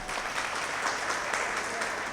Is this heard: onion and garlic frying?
no